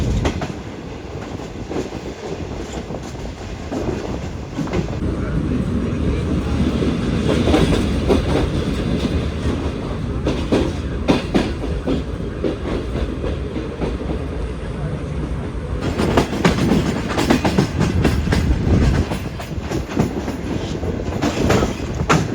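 Green Line express train running fast on a high-speed stretch after Kotri, a loud continuous rumble with rapid clickety-clack from the wheels and occasional squeal, faint voices in the carriage.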